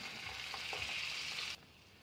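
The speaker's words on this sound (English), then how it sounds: "And then add onion and green pepper, and again saute for a while." Onion and green pepper sautéing in a pan for a chilli egg omelette, a quiet, steady sizzle with faint stirring clicks that stops abruptly partway through.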